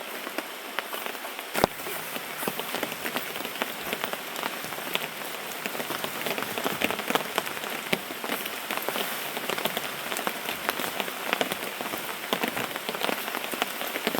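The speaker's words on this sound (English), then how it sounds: "And the rains are coming back." Heavy rain falls steadily around a hammock camp, a dense continuous hiss of drops striking nearby surfaces with scattered louder splats and no voices.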